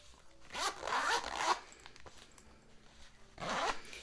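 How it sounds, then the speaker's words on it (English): A small zipper on the back pouch of a thrifted wallet is pulled in two quick, scratchy runs, the first longer and louder, the second shorter after a pause, heard close up with no talking. "the back has a little zipper pouch"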